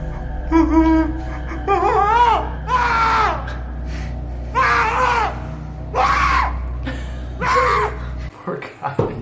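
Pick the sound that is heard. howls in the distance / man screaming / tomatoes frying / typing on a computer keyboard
man screaming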